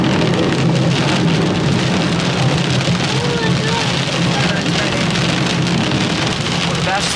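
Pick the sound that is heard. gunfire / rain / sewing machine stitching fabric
rain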